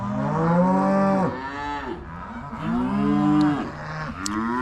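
Cattle mooing loudly and close, several long drawn-out lowing calls in succession with short gaps between them, on a farm in the early morning.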